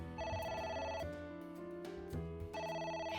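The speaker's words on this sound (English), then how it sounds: "A phone. Should I pick it up?" A phone rings in AI: The Somnium Files, a repeating electronic trill in bursts that play loud and close over a steady musical backdrop, with a pause between rings.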